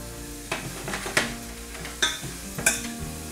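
Garlic fries in a hot pan of oil, sizzling steadily while a utensil scrapes and stirs it in several sharp, close strokes; no one speaks.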